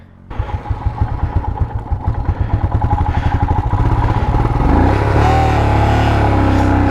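A Royal Enfield Himalayan motorcycle rides a mountain route near Everest, its engine thumping in rapid rhythmic pulses that build into a steady, loud drone with clatter, close and continuous with no talk.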